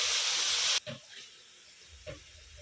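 A splash of water hits hot frying spices, cumin powder and grated ginger, producing a loud burst of hissing sizzle that stops abruptly after a moment, followed by quiet pan noises.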